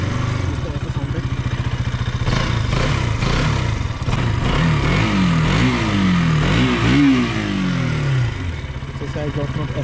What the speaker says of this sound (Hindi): इसका एग्जॉस्ट नोट ऐसा है